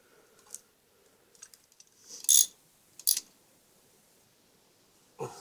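An engine cam cover on a Harley-Davidson Evo is bolted back on with a wrench, giving sparse metallic clicks and a few louder ratcheting bursts, close and fairly quiet with no talk.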